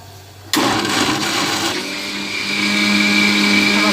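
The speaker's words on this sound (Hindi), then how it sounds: "अब मैं इसको ग्राइंड कर लूँगी।" Kitchen blender starts abruptly and grinds soaked almonds, melon seeds and cardamom into a thick paste, a loud steady whirring motor drone with a pitch that shifts as the load settles, alone without talk.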